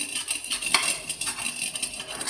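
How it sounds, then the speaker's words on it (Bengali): A metal ladle crushing heated mustard seeds in a pan for a Bengali vegetable fry, with light repeated scraping and clinking taps of metal on metal, close and steady. "এবার এটা আমি ডাবুতে করে এই যে দানাগুলো একটু ভেঙে দেবো।"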